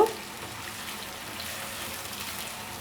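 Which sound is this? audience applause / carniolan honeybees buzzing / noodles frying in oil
noodles frying in oil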